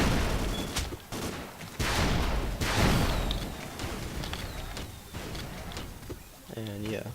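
Gunfire in the block-building shooter game Ace of Spades: bursts of rapid shots and sharp cracks crowd the scene, loud and near, with brief pauses between volleys.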